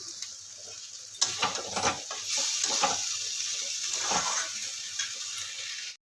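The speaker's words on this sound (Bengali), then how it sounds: "মাছটা একটু ভেজে নেবো।" Fish frying in oil in a home kitchen pan, with a steady loud sizzle throughout and stirring scrapes and clatters over it.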